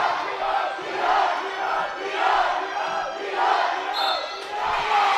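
Two high school basketball crowds cheer and chant in Ballard Gymnasium, a loud, echoing roar of voices that swells and dips in rhythmic waves, with a faint squeak near the end.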